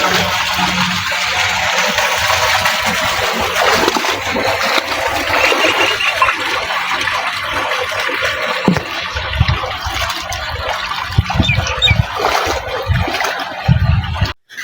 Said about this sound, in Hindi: ये हमारा घास है इसको पानी लगना है